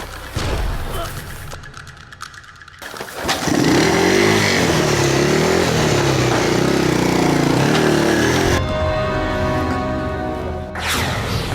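A motorcycle engine starts with a few sputters, then roars loudly and steadily as the rider pulls away, fading toward the end. Voices talk over the start.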